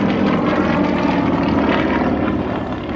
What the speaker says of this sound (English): this was the aircraft previously owned by weatherman Jim Hickey